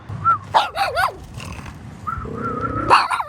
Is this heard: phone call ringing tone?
no